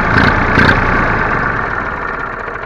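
An IMT 533 tractor diesel engine runs loud and close, a brief rev at the start settling into a steady, rough idle.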